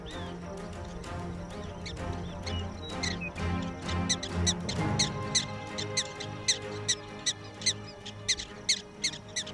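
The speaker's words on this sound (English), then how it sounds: "start a repetitive squeaky call to warn one another of the coyote in the neighborhood" Prairie dogs in a South Dakota field give repetitive squeaky warning calls. The sharp chirps come in a steady, evenly spaced series that grows clearer and more regular toward the end, heard over a hum of background sound.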